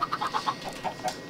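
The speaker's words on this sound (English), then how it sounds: "You get one lonely chicken." A chicken in the Minecraft video game clucks in a quick run of short, close, clear notes that slow toward the end.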